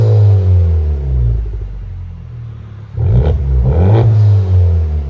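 A 2022 Honda Civic Type R turbo engine with a titanium exhaust rumbles loudly and then revs up sharply twice in quick succession, close by, with a raspy exhaust note.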